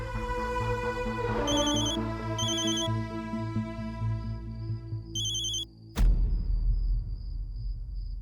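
A phone rings with an incoming call, a repeating electronic ringtone of chiming bursts over a low musical drone, cut off by a sharp hit, then one long tone under a rumble.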